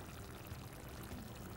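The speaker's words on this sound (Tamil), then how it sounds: "உப்பு போட்டு தண்ணி ஊற்றி நல்லா காய வேக வச்சிடுறோம்." Water is poured into a pan of eggplant curry during cooking, a short, steady, close splashing wash with no voices.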